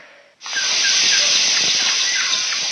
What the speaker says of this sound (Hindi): सुनिए, जल्दी गैस बंद कीजिए, कुकर में सीटी आ गई है, उतार लीजिए।